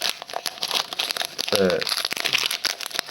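A foil wrapper of a counterfeit Pokémon booster pack crinkles and tears open up close, with busy rustling and crackling under a person talking.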